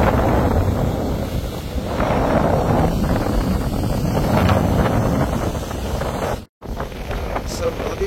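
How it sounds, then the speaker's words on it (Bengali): Strong wind aboard a boat on a river, a loud, continuous roar buffeting the microphone, with one brief dropout and faint voices underneath. "নদীতে অনেক বাতাস এই মুহূর্তে"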